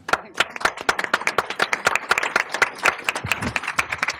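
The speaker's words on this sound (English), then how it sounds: "let's give the panelists a round of applause" Audience applause for the panelists closing a panel discussion, many hands clapping in a dense, steady patter that stays loud and close throughout.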